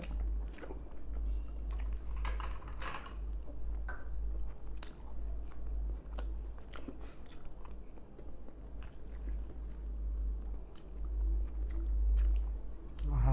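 Close, wet chewing and biting of idli with chicken curry, soft squishy mastication with occasional crunchy bites repeating steadily throughout, no talking.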